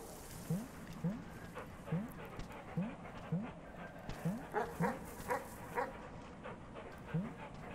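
A dog in the video game Animal Well gives a steady run of short, evenly spaced barks, each followed by a quick yip, all under a low game ambience.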